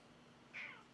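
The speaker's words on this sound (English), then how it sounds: "Meow." A cat gives a single short meow about halfway through, fairly close and clear over a quiet room background with no talking.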